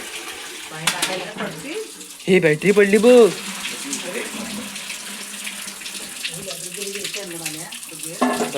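Water runs from a tap into a bucket at night in rural Konkan, a steady close splashing gush under people talking throughout.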